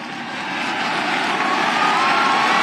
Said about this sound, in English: Starship landing burn startup